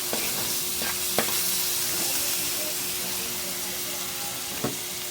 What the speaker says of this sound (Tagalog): Sariwang alamang ito mga lods. Ayan. At imikos-mikos lang natin.